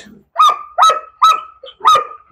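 A dog barks four times in a steady rhythm, loud and close, each bark sharp with a short whine-like tail, and no one talks over it.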